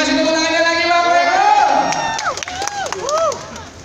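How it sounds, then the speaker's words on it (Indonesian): Crowd cheering and shouting at a fastest noodle-eating contest during a noodle festival in a mall, loud and lively throughout with excited voices and whoops; a person talks over it. "Coba kasih tepuk tangannya lagi"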